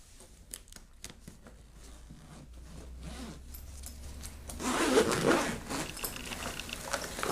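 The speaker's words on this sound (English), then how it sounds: "Go ahead and unzip the case." A zipper on a Pearl percussion case is pulled open, with scratchy rasps and small clicks that grow louder and denser toward the end, close by and without speech.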